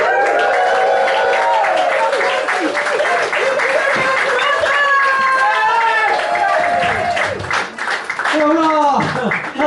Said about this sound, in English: Start the whooping,